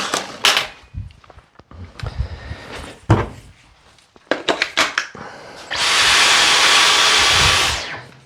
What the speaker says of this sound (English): So now we're going to get the fancy Dyson out here.